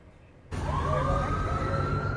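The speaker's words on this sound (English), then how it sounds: "Swarming with police and sirens" A police siren wails steadily from the middle of the clip onward, loud and continuous over a dense rumble of street noise, after a brief quiet start, in Laguna Woods after a church shooting.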